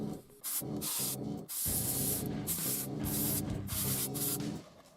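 Repeated short bursts of spray paint hiss close up in a spray booth while painting a resin model kit, several blasts in an uneven rhythm with brief pauses between them, no talking.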